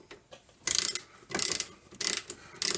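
A hand ratchet clicks in four quick bursts while pulling up bolts on a C4 Corvette suspension arm, loud and close in a quiet garage.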